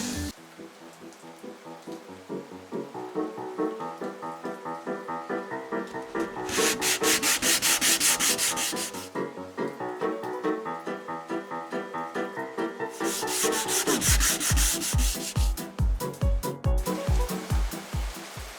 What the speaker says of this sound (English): I'll crack on sanding this, get it all back